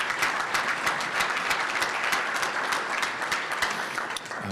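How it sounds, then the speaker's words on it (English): Steady applause from a seated crowd at a St. Patrick's Day luncheon, dense overlapping claps holding at an even level for several seconds before easing slightly at the end. "So let's give them a round of applause."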